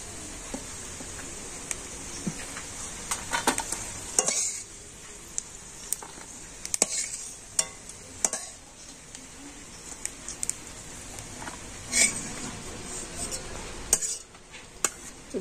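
Fried dry fruits are lifted out of ghee in a wok, with a thin sizzle beneath scattered metal clinks and scoops of a ladle against the pan.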